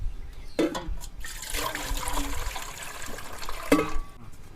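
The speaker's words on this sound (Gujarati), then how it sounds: "ઢોકળિયું લઈ લીધું છે એમાં થોડુંક આપણે પાણી નાખી દઈશું" Water gushes into a metal dhokla steamer for cooking patra, making a close, rushing, splashing pour with a couple of sharp knocks at the start and end.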